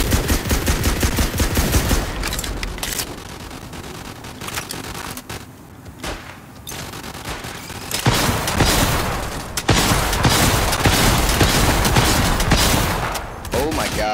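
Video-game rocket launcher combo during a world boss fight, firing in dense rapid salvos of booming shots and gunfire, loud and continuous, with brief quieter gaps before heavy bursts resume.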